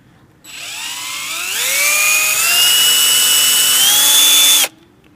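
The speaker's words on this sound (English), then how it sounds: "I've connected the handheld drilling machine to this one here." A handheld electric drill whirs up to speed, spinning a 1976 Alfa Romeo Alfetta speedometer cable, its high whine climbing and holding steady for about four seconds before cutting off abruptly.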